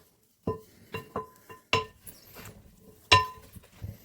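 Chickpea salad being tossed with olive oil in a bowl, giving a handful of separate clinks and taps of a utensil against the dish, spaced irregularly and close by, with quiet gaps between them.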